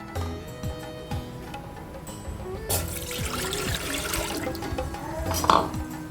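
A cup of water is poured into a pan on a stove while cooking urad dal laddu, starting as a soft trickle and swelling into a steady splashing pour that ends with a brief louder splash.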